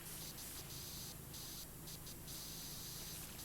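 Water spraying in the video game Memories of the Metro, a steady, loud hissing rush that runs continuously without pause, with no talk.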